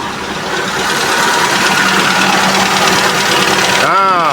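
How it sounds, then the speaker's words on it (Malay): A car radiator fan, switched on with the AC in an overheating car: a steady whirring fan drone blends with engine hum, loud and continuous, near the listener, ending with a brief rising whine. "Ada bunyi kipas sudah berputar."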